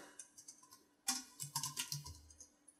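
Someone types a file name on a computer keyboard, a quick run of light clicking keystrokes with a louder cluster of taps after a short pause, close and without talk.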